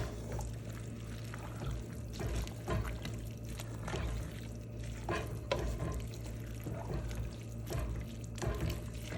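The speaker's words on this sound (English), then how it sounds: "stir this up." A spoon stirs Hmong-style venison stew in a pot, with steady wet scraping and sloshing and faint bubbling underneath, a continuous close-up kitchen sound with no talking.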